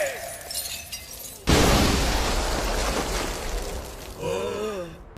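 An explosion in the anime Zom 100, where a company CEO bursts like fireworks in an open space, hits as a sudden loud blast. It gives way to a long roaring, crackling decay and ends with a brief vocal groan.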